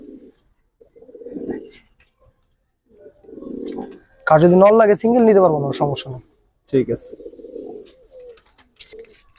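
Giribaz silver pigeons coo in short, soft bursts close by, mixed with a louder run of calls, while people talk over and between them.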